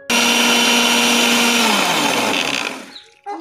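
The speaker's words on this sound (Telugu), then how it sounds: "ఒకేసారి మనం వాటర్ వేసుకొని ఇలా 1 నిమిషం పాటు మిక్సీ పట్టుకుంటే సరిపోతుంది" A kitchen mixer grinder blends cream and water to make butter for homemade ghee, a loud steady whir lasting nearly three seconds before the motor cuts off and slows to a stop.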